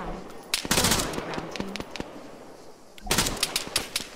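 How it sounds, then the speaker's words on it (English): Automatic weapon covering fire in the military shooter game Argo: two bursts of rapid shots, one early and one near the end, with a gap of quieter ambience between them. "I've got an auto weapon here, so let's lay down some covering fire"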